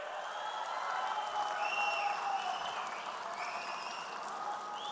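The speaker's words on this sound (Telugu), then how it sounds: "గట్టిగా చప్పట్లు కూడా చెప్పాలి" A large crowd at the Mahanadu political rally in Kadapa claps steadily for several seconds, a dense, continuous wash of applause with faint whistles and cheers rising above it.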